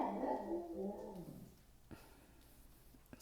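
A dog that wants to go outside whines insistently, a drawn-out, high whimper filling the first second and a half before fading to near quiet with a couple of soft knocks.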